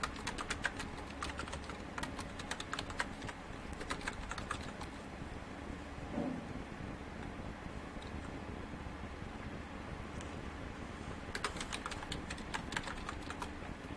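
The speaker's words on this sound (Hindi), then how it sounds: "यहाँ पर मैं एक कंपनी नेम टाइप कर लेता हूँ" Rapid bursts of typing on a computer keyboard while entering a company name for a Microsoft Word cover page; soft, steady clicking clusters come and go over a low background hiss, with no talking.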